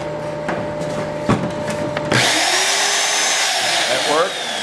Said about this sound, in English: We've got a regular drill.